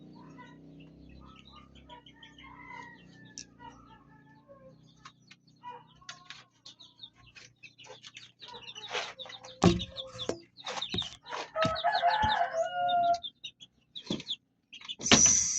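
Chicks in their new coop give high cheeping peeps, faint at first and growing busier, with a few soft knocks and rustles nearby.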